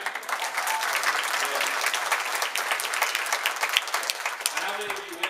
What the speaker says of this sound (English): please, congregation, do not feel restricted in your clapping